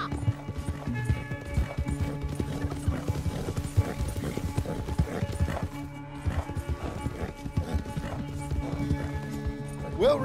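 A horse gallops hard in a race in Red Dead Redemption 2, its hooves pounding in a fast, continuous rhythm close by, with voices talking over it and music underneath.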